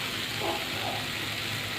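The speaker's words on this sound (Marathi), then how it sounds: "आपण याच्यात थोडासा पाण्याचा छिटा मारूया" A splash of water hits spices frying in a pan for egg bhurji, setting off a steady, broad hissing sizzle that stays continuous and fairly close throughout, with no voices.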